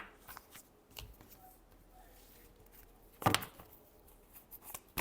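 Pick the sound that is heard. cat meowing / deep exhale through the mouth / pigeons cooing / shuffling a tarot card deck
shuffling a tarot card deck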